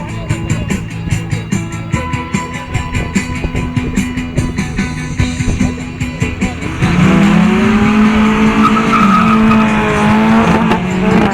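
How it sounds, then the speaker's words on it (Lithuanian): A Porsche 944 S with a 2.5-litre, 190-horsepower engine launches at a drag race, its loud, steady engine roar swelling sharply partway through into a harder, rising rev with squealing tires, close and continuous. "Gerai sustartuoja Porsche automobilis ir dabar belieka užfiksuoti rezultatą."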